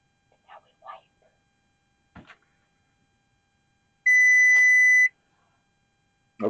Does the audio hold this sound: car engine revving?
no